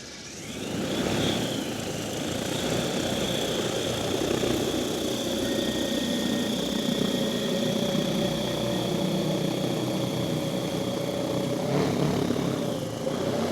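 DJI Agras T100 agricultural drone in flight, a steady loud whirring drone of large propellers with a sustained tonal whine, holding fairly constant and close throughout without talk.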